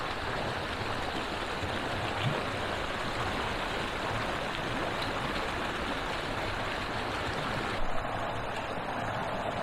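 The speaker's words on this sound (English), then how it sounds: "that's a nice little creek" A small creek flows steadily and continuously, a dense close rushing of water with no voices, its level holding even from start to finish.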